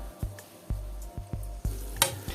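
White wine sizzles hard in a hot pan with garlic, a loud crackling fry broken by several sharp clacks of a utensil against the pan, ending in a brighter burst of hissing.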